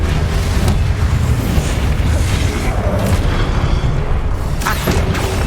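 A fiery Incendio spell blast from the Hogwarts Legacy game erupts as a loud, dense, booming roar that runs continuously, with a few sharper bursts layered over the rumble.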